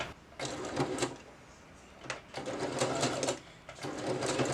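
A sewing machine stitches around a curve in bursts, its rapid rattling whir starting and stopping several times close up.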